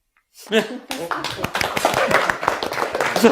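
An audience at a magic show breaks into clapping, a loose patter of hand claps building up while a voice talks over it.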